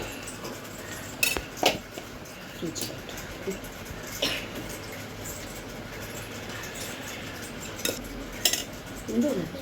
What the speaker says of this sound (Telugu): పసుపు అయితే వేసుకుందాం కొద్దిగా పసుపు అలానే అల్లం వెల్లుల్లి పేస్ట్ వేసుకొని అయితే బాగా కలిపేసుకుందాం